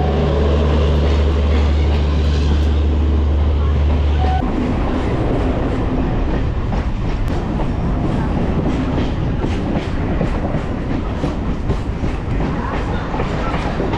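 A Majerhat–Barasat local train in Kolkata rolls into Patipukur station with a loud, steady rumble and rattle that fills the whole stretch, a low drone dropping away partway through; no voices.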